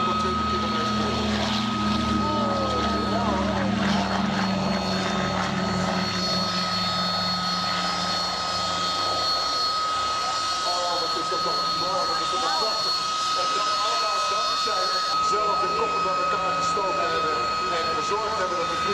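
A vintage propeller airliner runs up and takes off at the Texel airshow, its steady engine drone filling the cabin while someone speaks over it on the public address.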